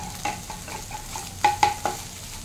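Eggs scrambled and stir-fried like egg bhurji in a pan sizzle softly under several sharp scrapes and taps of a spatula against the metal, clustered near the end.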